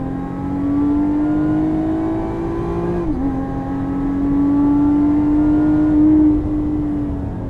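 A Lotus Evora 400 sports car lapping a short hill circuit in Dubai, its engine droning steadily and rising and falling with revs through the laps, a brief dip near the middle, close and continuous with no talk.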